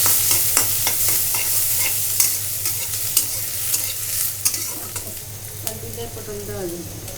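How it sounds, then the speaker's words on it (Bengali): Onions frying in a pan for chicken roast, a loud close sizzle with repeated clanking stirs and scrapes of a spatula throughout. "এখানে হলো পেঁয়াজ ভেজে নেওয়া হচ্ছে রোস্টের জন্য"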